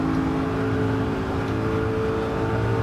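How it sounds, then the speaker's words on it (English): A BMW Z8 accelerating on throttle in a racing video game around Blue Moon Bay: a steady, loud engine drone holding a sustained pitch throughout, heard alone without talk. "that's when I went on throttle"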